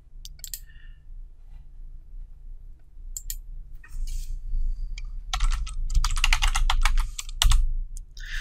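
Typing on a computer keyboard, a sparse scatter of clicks at first that builds into a quick, steady run of close keystrokes, with no talking.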